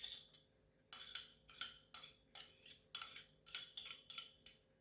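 A utensil mixing diced eggs into potato salad in a bowl, about ten evenly spaced scraping, clinking strokes, close and fairly quiet, with no talking.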